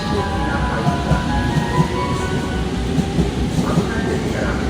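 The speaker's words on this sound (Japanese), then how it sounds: "まもなく3番線に快速逗子行きが入ります。" A rapid train bound for Zushi pulls into platform 3 at Ichikawa Station on the Sobu Rapid Line, a steady close rumble with a faint metallic whine, light clatter and indistinct voices in the station background.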